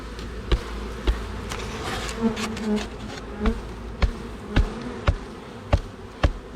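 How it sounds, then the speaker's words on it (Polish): Honeybees buzz densely as they are shaken off a hive frame during a hive inspection, a constant swarming hum punctuated by about a dozen sharp knocks at roughly half-second to second intervals. "Ale zrzućmy tą pszczołę."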